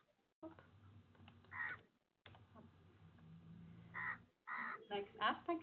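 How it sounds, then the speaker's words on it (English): Birds call in the background of a webinar call, with several harsh, crow-like caws in short bursts while a low, muffled hum and background voices run through the clip. "Someone has some nice birds in the background."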